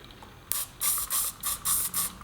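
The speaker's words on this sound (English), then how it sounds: "to lock this position, I'm just using a little bit of hairspray" Hairspray from an aerosol can misted onto the dubbing head of a pike streamer fly at the tying bench: about six short, close hissing bursts in a quick, even rhythm, with no voices.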